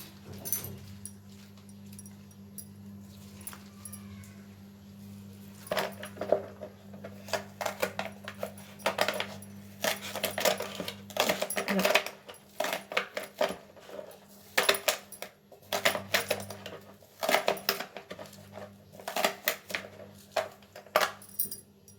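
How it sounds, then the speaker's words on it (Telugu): Knife chopping washed onion stalks into small pieces on a board, irregular bursts of quick taps that start sparse and grow into dense runs, close and fairly clear with a low hum behind. "వాష్ చేసుకొని చిన్న చిన్న ముక్కలుగా కట్ చేసుకోవాలి."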